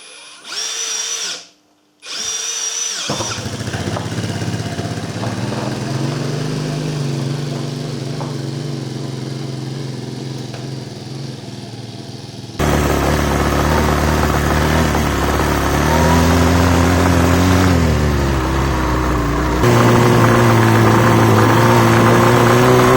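An ATV engine on a temporary fuel supply sputters and catches, then runs with a buzzing, revving drone that climbs in pitch and loudness in stages, close by.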